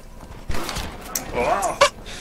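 Horse hooves clip-clopping in the video game Red Dead Redemption, a few quick thuds mixed with a short whinny, close and fairly loud over brief game noise.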